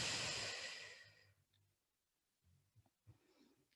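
A deep breath drawn in during a yoga class, then a long, loud, airy exhale that fades into quiet, followed by a few soft breath sounds close to the mic.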